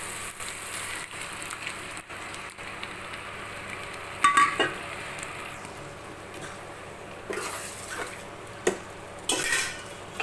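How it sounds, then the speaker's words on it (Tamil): Mashed brinjal poured into a pan of tomatoes frying in oil and stirred, with soft steady sizzling and a few clinks of utensil against the pan. "இந்த டைமில் இந்த கத்திரிக்காய் கடைஞ்சதை ஊற்றிக்கணும்"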